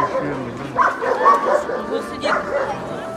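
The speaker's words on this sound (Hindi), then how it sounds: "हमें पता तो नहीं यहाँ क्या हो रहा है, लेकिन बहुत सारे कुत्ते हैं।" Several dogs bark, yip and whimper in a jumble of overlapping calls near a hospital centre, with a large husky-type breed among them; people talk over the barking throughout.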